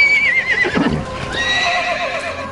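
A horse gives a loud, close whinny that rises and falls, followed by a second, higher neigh, with faint hoof clops in between.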